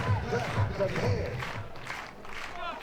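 Crowd noise at a Friday college softball doubleheader, Texas vs Mississippi State, forms a steady murmuring din with faint cheers, while a commentator talks over it.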